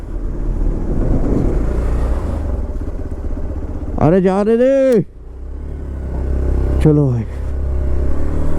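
A stuck vehicle's engine drones and strains steadily as it tries to pull its wheel free, a low continuous rumble underneath loud shouting voices urging it on.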